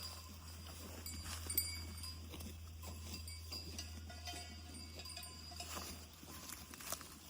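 Livestock on a farm near a raspberry patch, with faint scattered animal sounds, soft rustling and occasional clinks over a steady low hum, fairly distant.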